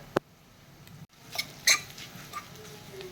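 Spices tempered in a pan with curry leaves, asafoetida, coriander-cumin powder, turmeric and goda masala, heard as faint clinks and scrapes of a utensil against the pan, with a few sharper knocks among a quiet, low sizzle.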